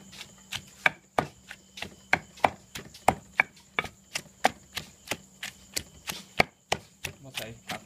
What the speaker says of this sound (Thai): ใส่ผักหอมลงไปแล้วตัดกิน